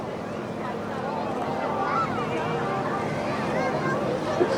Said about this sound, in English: the YAK-52 that now arrives from the left